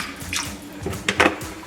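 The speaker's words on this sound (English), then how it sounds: "you must wash your chicken or your meat with water and vinegar" Running water splashes and sloshes unevenly in a sink, with short bursts as raw chicken is rinsed and handled under the flow.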